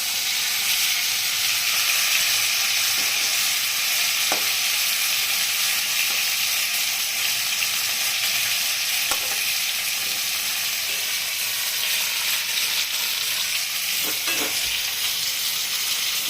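Katla fish pieces frying in hot oil in a pan, a loud, steady, broadband sizzle lasting throughout, with a few faint clicks and pops of a utensil or spattering oil.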